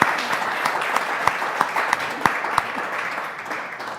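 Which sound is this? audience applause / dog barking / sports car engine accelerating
audience applause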